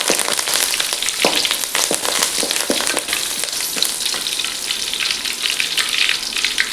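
Curry leaves hitting hot oil while making palak spinach gojju give off a dense, steady crackling sizzle that stays loud and busy for the full length, with sharp pops scattered throughout.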